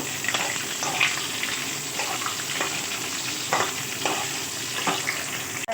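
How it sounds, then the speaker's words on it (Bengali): Drumsticks, green banana and sweet potato frying in oil in a wok, a continuous close sizzle with occasional scraping clicks of stirring, steady and moderately loud. "এবার এগুলো খুব ভালো করে আমি ভেজে নেব।"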